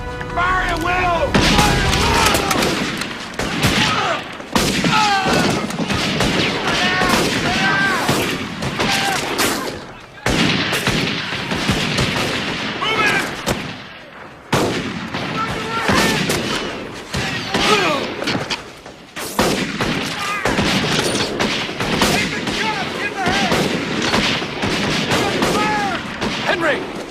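Sustained volley of gunfire erupts after a shouted order to fire on hostiles, with rapid overlapping shots and booms continuing densely throughout, briefly dropping away twice before resuming, mixed with shouting voices.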